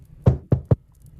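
Three firm knocks on a wooden room door, irregularly spaced across about half a second, close and fairly loud with nothing else around them.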